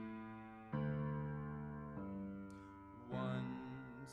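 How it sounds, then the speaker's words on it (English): Left-hand keyboard bass playing a 1-6-2-5 loop in C, four sustained notes struck one after another at a steady pace, each ringing until the next, with no voices. "So here's the 1, 6, 2, 5 loop, just the bass stuff."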